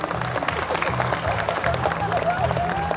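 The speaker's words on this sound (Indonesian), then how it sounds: "Boleh tepuk tangan buat semuanya." An audience claps together at a farewell gathering for departing Jakarta officials and civil servants, a steady, dense wash of hands filling the room, with a voice and crowd noise running underneath.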